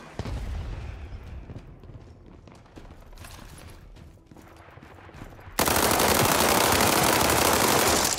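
Rapid automatic gunfire from a video game weapon rattles in dense continuous bursts, then becomes a loud, sustained roar of fire in the final seconds.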